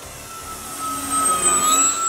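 An X-fly Twin Otter 1800mm RC model airplane passes by at a distance, its electric motors giving a thin, steady whine that swells slightly as it approaches.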